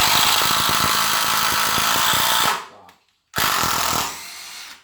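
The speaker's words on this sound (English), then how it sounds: "Again, that's the impact driver. 3-inch screw." A 12-volt impact driver drives a 3-inch screw in loud, rapid rattling bursts that stop briefly, go silent, and then start again close by.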